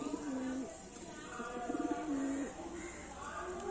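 A male Gola line pigeon gives soft, low coos in short repeated phrases, heard faintly under and between a man's speech.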